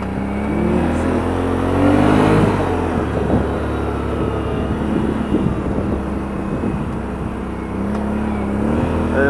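Honda ATV on 31-inch MotoHavok tires accelerating outdoors, a steady engine drone that rises and falls with throttle, moderately loud and fairly close.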